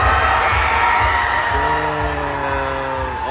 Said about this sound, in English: Oh, they're cheering for their school.